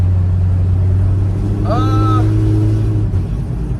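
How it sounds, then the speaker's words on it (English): Inside a car driven with open exhaust dumps, a loud steady low engine drone fills the cabin, with a brief whining tone over it midway; a voice speaks through the noise. "this is what it sounds like to drive with open dumps. Very noisy on the inside."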